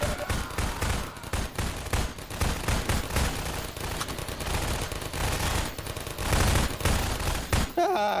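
Nonstop gunfire from a firefight in Half-Life 2 Episode 2, dense rapid shots and bursts that stay loud throughout.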